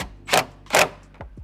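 A drill drives a screw through plastic layers into a metal van window frame during a DIY van conversion, sounding as two loud, close bursts of whirring followed by two short knocks.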